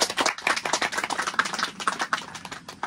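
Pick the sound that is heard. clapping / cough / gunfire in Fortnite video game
clapping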